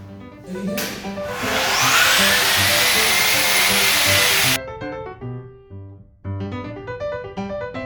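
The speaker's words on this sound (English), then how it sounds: "is this machine with the sanding attachment" A loud, steady high-pitched whine of a power sander sanding a kitchen floor runs for several seconds, then cuts off, leaving background music playing alone.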